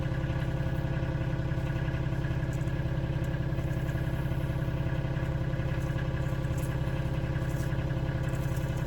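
Engine of a sprayer running outside at a cut flower farm, a steady mid-pitched idling drone with faint clatter, continuous and moderately distant with no change over the whole stretch, no voices.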